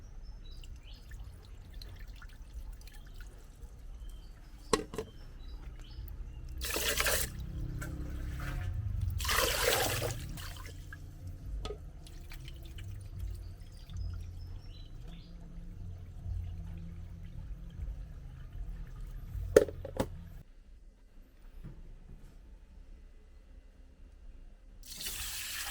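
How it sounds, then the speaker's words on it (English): Clean water is poured into a pot of rice in a rural Vietnamese kitchen, quiet gurgling splashes and tap-like bursts coming in a few separate pours with quieter gaps between. "After that, I add clean water to the pot."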